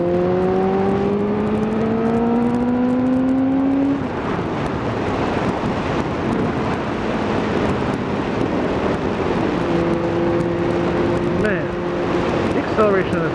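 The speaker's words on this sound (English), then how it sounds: "Acceleration of this bike is crazy." A Kawasaki ZZR600 motorcycle accelerates, its engine pitch climbing steadily through a gear then dropping at a shift, heard from the rider's position under heavy wind rush, with a rider speaking.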